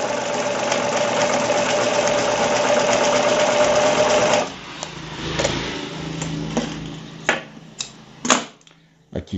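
An Elgin Genius sewing machine stitches a zigzag, a loud steady mechanical whirr for several seconds that stops, followed by a few clicks and knocks of the mechanism up close.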